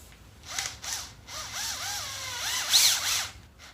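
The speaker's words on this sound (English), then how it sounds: "using a Bosch drill." A Bosch drill buffs a car headlight lens, its motor revving up and down in short rising and falling bursts, close and fairly loud with no talking.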